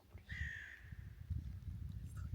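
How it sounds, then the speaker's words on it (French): A crow caws near a RER train station, one drawn-out call followed later by a shorter one, carrying over low rumbling background noise. "Corbeaux, ils font vraiment peur."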